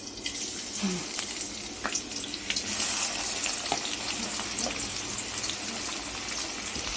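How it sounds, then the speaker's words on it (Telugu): Curry leaves sizzle in hot oil in a pan on a stove, a steady crackling hiss with a few sharper pops throughout, close and fairly quiet, with no talking. "అలాగే కరివేపాకు కూడా వేసేసుకున్నాం"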